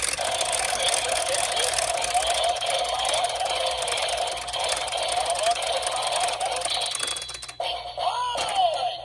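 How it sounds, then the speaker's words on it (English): The gear of a GP Sentai Gear 03 toy spins with a busy mechanical whir and ratcheting clicks, and electronic tones and effects play toward the end. Near, loud and steady, with no talking over it. "let's spin the gear again for the special attack"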